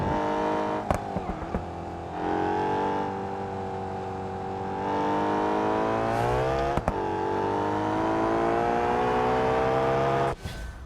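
Simulated car engine revving hard in BeamNG Drive, a loud, sustained harmonic drone climbing and falling in pitch through gear changes, with brief clicks and a sharp cutoff near the end.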